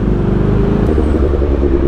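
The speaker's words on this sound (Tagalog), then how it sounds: "Daming sasakyan dito, puntang Maligaya." Heavy traffic on Marcos Highway rumbles close by with deep, continuous engine drone from passing vehicles, loud and steady, with a shift in engine tone partway through.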